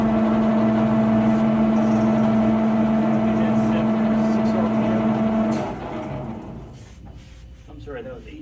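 A 1974 Blanchard 20-36 high-column rotary surface grinder with its chuck turning gives a steady loud mechanical hum with a strong tonal whine that drops away after about five seconds. A quieter rumble follows.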